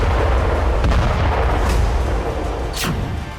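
A drone carrying 17 kg of C4 plastic explosive blows up in a loud, booming blast with a long, dense rumble, followed by a brief whistling sweep near the end.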